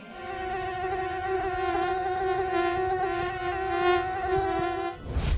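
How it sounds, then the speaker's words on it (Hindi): In a cartoon story, mosquitoes keep up a steady, close, high-pitched whining buzz for about five seconds, then it cuts off into a brief burst of noise at the end. "हर तरफ मच्छर भिन भिनाने लगते हैं।"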